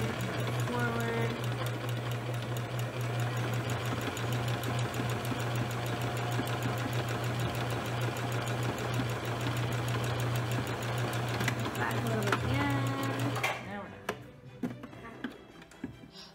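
Home sewing machine stitching close along the folded edge of a fabric Christmas stocking, a steady close whirring drone that runs nearly the whole time before stopping, with sparse taps and handling after.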